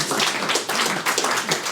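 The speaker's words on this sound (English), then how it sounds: "you know who started clapping" A few people clap in a meeting-like setting among a software team, a quick run of close, uneven hand claps with no voices over them.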